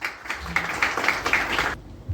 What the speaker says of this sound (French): qu'on applaudit s'il vous plaît